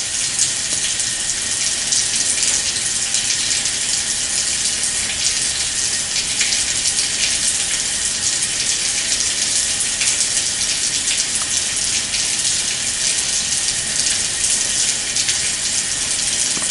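Tap water runs steadily into a sink during surgical-style hand washing, a continuous close hiss and splash with no pauses and no voices.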